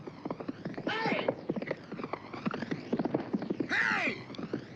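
Horse hooves clip-clop on hard ground in a busy, noisy scene, steady rhythmic clopping running under shouting voices and crowd noise.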